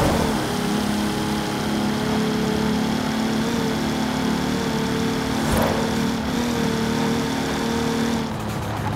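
A 1992 Toyota Supra 2.0 GT twin turbo in Forza Horizon 4 runs with a steady, loud, droning engine note that holds near constant and shifts briefly near the end, with no talk over it.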